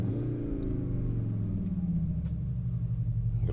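A 2024 CUPRA Formentor Tribe Edition in Cupra driving mode gives a deep, rumbling engine note that swells and settles steadily, loud and close with no talking.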